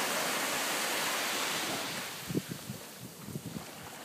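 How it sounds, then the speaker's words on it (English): Ocean waves wash onto a beach in a broad, steady hiss of surf with some wind, then softer scattered lapping near the shore, no voices. "The waves behind us."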